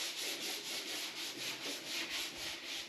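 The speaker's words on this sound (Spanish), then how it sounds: "Para lijar toda la pintura que se caía y dejar la superficie más o menos lisa, he utilizado esta lija de 80 con un taco." Hand sanding of flaking paint on a car bumper using 80-grit sandpaper wrapped on a block, a steady, close rasping scrub in rhythmic back-and-forth strokes, repeating evenly throughout with no talk.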